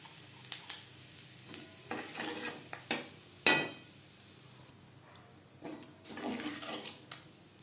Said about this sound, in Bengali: মাছ ভেজে নেওয়া তেলে ফোড়নে দিয়ে দেবো গোটা জিরে।